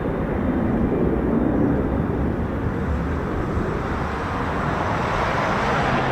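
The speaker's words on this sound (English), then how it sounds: "Now, this is a Super Galaxy." Lockheed C-5M Super Galaxy military transport aircraft at an RAF airfield, a loud, steady broadband engine roar that holds constant throughout without fading.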